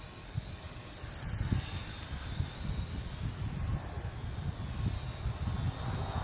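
A Hubsan H501S quadcopter drone hovers at night in wind, giving a steady, moderately loud motor and propeller drone with a low rumble that holds without pause.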